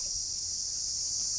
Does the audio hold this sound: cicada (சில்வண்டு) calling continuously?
yes